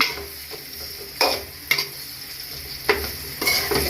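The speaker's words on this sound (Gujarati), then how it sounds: "આ રીતે આપણે હલાવી લઈશું એને" Steamed patra rolls are tossed with masala in a pan, a quiet sizzle broken by four or five distinct scraping stirs of a spatula, close and clear, with no talking.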